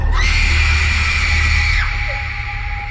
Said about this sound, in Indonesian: Terdengar suara jeritan perempuan yang sangat menakutkan.